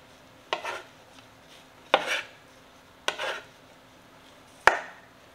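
Four separate knife chops on a cutting board, sharp close thumps spaced about a second apart, as filling ingredients for stuffed potatoes are cut up.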